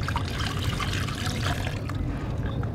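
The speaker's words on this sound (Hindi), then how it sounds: "तो ये पानी भी थोड़ा सा और ऐड कर देंगे इसके अंदर" Water pours steadily into a multani mitti clay mixture, a continuous close trickle and splash that softens slightly toward the end, with no voices.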